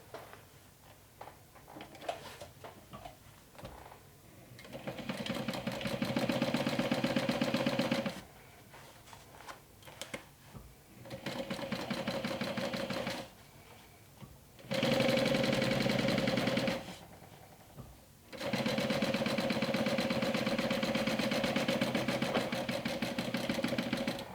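A sewing machine stitches the curved top seam of a glow-in-the-dark backpack in four sustained runs several seconds long, separated by short pauses with quiet handling noise, close and steady.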